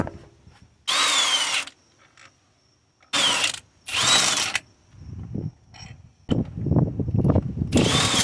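Power tool bursts driving out 14mm motor mount bolts on a 2008–2012 Honda Accord 2.4 with a wobble socket: three loud, whirring runs of about a second each, separated by quieter clanking and fiddling, then a longer rough stretch of mechanical noise.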